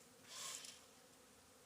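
A bee buzzes close by at a bee feeder for about a second, a soft drone that swells and fades against quiet outdoor background.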